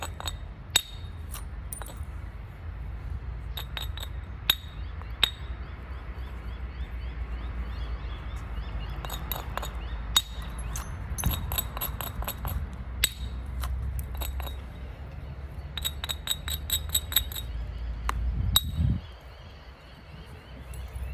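Flint knapping while edging a thick Solutrean biface point: a series of sharp, clicky strikes, some isolated and some in quick bursts, ringing over a low steady rumble, with a heavier thud near the end.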